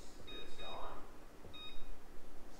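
A kitchen timer being set while cooking corn gives two short, thin electronic beeps about a second apart, faint under background chatter and room noise.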